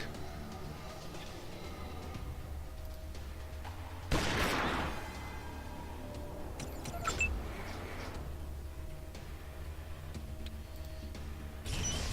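Gunfire in the video game Wasteland 2 comes as a sharp loud volley partway through, a smaller burst a few seconds later and another at the very end, over a low steady background hum.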